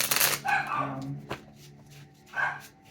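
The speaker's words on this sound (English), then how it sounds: "barking at somebody that's near the door" A dog barks at someone near the door, giving a few short, fairly distant barks in a quiet room, with a person speaking over part of it.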